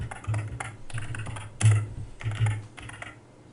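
Someone types a password on a computer keyboard: several quick bursts of close, crisp key clicks in uneven clusters, with short pauses between groups.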